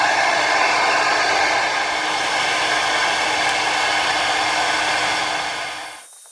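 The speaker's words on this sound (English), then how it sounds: "So I'm going to take the hair dryer and I'm going to warm this up a little bit." A hair dryer warming painted equipment for rust treatment blows with a loud, steady whooshing hum for several seconds, then winds down and stops.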